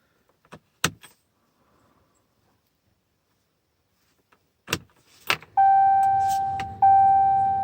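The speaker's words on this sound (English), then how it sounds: "We're going to put a key in a run position for 4 seconds, then cycle to the off position and do it 7 times." Ignition key being turned in a RAM 5500 6.7 Cummins, with a couple of sharp clicks and key jangles, then a steady electrical tone and hum once the run position is reached, briefly interrupted and then resuming.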